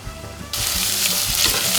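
Carrots stir-frying in a pan: a quiet stretch breaks into a loud, dense, steady sizzle that continues to the end, close and unbroken.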